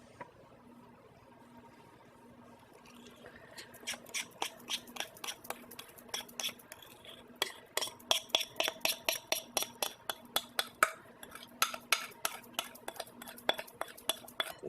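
Buttermilk and sugar mixture whisked in a bowl, building from quiet scraping into a fast, regular clatter of utensil against the bowl, close but fairly soft, no voices.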